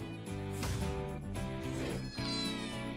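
A cat meows in a run of insistent, tonal cries, several overlapping calls rising and falling close by with no voices over them.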